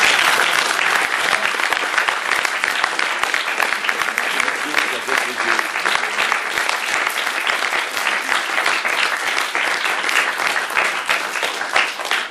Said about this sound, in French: je voudrais que vous applaudissiez tous.